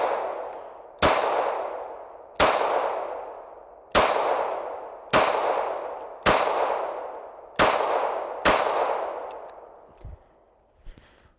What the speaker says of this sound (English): I have 8 rounds loaded up this time, and I'm about 15 feet away from the clay